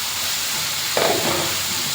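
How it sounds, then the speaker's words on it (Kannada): Mangalore-style sukka frying in a pan: a steady, close hiss of sizzling oil, with a brief scraping stir of the ingredients about halfway through. "ಅದು ಚಂದ ಫ್ರೈ ಆಗ್ತಿದೆ"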